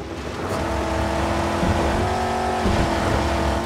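Car engine droning steadily in the Mad Max video game, a sustained motor hum with a slight rise in pitch near the end, loud and continuous, with no talking.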